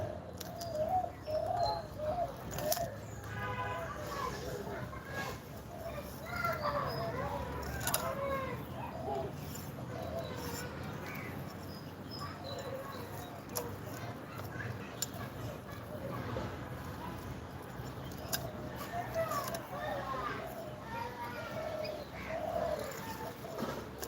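Domestic pigeons coo and call around a home loft with many eggs, a steady murmur of soft cooing and occasional chirps running throughout, with people talking nearby over the birds.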